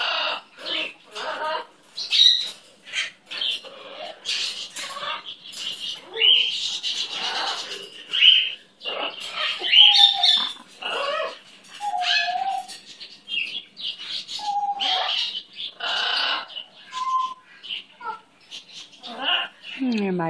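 A pet bird, likely a parrot, chatters and mimics a human voice in bursts of squawky, speech-like calls and whistles, close by, with a person also talking.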